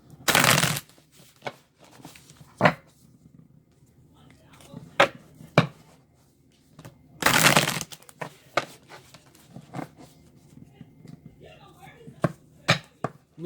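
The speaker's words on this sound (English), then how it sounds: "I'll give it a little shuffle." A tarot card deck gets a quick shuffle in two sharp riffling bursts, close and crisp, separated by scattered taps and soft card handling noises in a quiet room.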